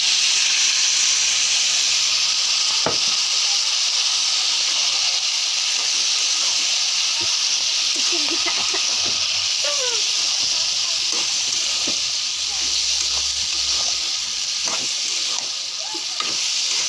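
A beef mixture fries loudly with browned potatoes in a pan, a dense, even hiss of oil close by with occasional spatula scrapes and clicks throughout.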